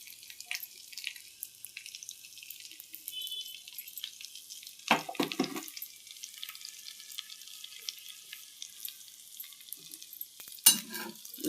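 Coriander seeds, cumin and garlic fry in a little oil for a ginger pickle, giving a quiet steady sizzle broken by a couple of louder stirring clatters.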